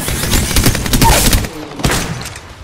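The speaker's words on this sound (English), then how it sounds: "I'm taking shots." Gunfire in Apex Legends Season 2: loud, rapid volleys of shots cracking out close by in dense bursts, with a brief lull before a final sharp burst.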